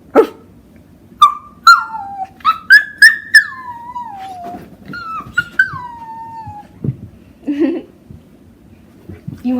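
A dog whines and whimpers in a string of high, drawn-out sliding cries, some rising then falling, with short breaks between them and a few softer snuffles at the end, fairly close and without talk.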